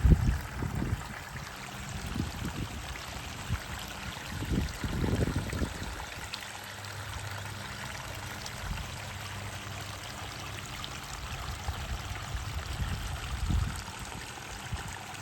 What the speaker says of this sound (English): Get a nice shot of the waterfall.